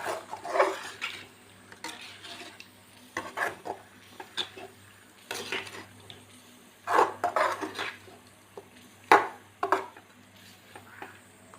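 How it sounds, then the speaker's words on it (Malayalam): A spoon stirs marinated chicken into masala in a pan, giving irregular bursts of scraping and clinking metal strokes against the pan, close by, separated by brief quiet gaps, with no voices. "ഈ ചിക്കനും നല്ലോണം ഒന്ന് മിക്സ് ആക്കണം നമ്മുടെ ഈ മസാലയ്ക്കകത്തിൽ"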